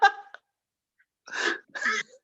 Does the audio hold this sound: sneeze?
yes